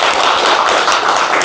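A church congregation at a Sunday service claps together, a loud, continuous, close-sounding burst of many hands filling the whole moment without any voice on top.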